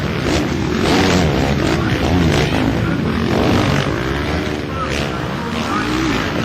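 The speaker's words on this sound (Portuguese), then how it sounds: "Acelerando o Beto Martins" Yamaha, Honda and Kawasaki motorcycles race and accelerate at an arenacross event, their engines forming a dense, loud, continuous roar, with a commentator speaking throughout.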